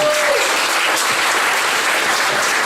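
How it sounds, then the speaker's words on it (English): A comedy show crowd gives a full, steady round of applause, loud and dense clapping filling the whole moment without a break. "So a round of applause for all of you for coming out."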